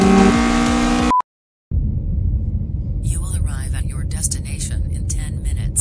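Steady car engine rumble with road noise from a drive in The Mandela Catalogue, cut by a brief silent gap, then continuing under chatter and bright high-pitched clicks.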